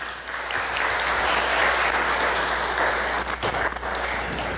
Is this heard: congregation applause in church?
yes